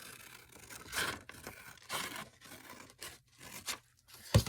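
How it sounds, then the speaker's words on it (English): Paper for a no-sew journal is cut with several crisp snipping and ripping strokes spaced about a second apart, fairly quiet and close, with a sharper tap at the end; no talking. "let's go ahead and cut this"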